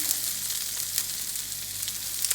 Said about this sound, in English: onions sliced thin go into a couple tablespoons of olive oil. And you want to just cook those over medium heat